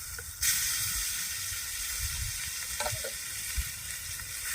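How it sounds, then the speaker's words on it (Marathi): Stone-ground spice paste (vatan) sizzles steadily in hot oil for a village-style mixed vegetable dish, a continuous close broadband hiss with occasional faint stirring scrapes and no talking. "तेल गरम झालंय तर पाट्यावर वाटून घेतलेलं वाटण"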